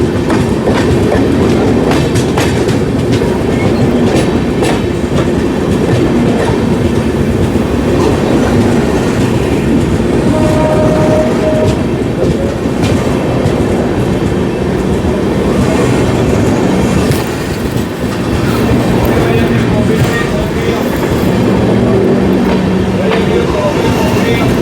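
The Dibrugarh–New Delhi Rajdhani Express rushes past at close range with a loud, continuous rumble and clattering wheels, and brief tonal horn-like notes rise through the din while voices talk underneath.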